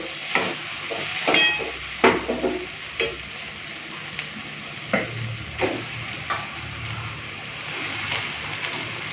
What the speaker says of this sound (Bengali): মশলাটা ভালো করে কষে নিয়েছি চলো এরপরে দিয়ে দিই খাসির মাংস